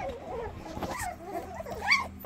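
Mini multigenerational Australian Labradoodle puppies whimper and yip in short, high, wavering cries close by, with a louder yelp near the end and a faint steady hum underneath.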